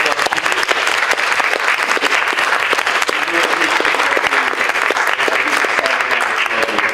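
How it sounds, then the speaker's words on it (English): Sustained round of applause from an audience at a community sustainability event on healthy lawns, dense and loud throughout with no break, filling the whole stretch. "Can we please give another round of applause?"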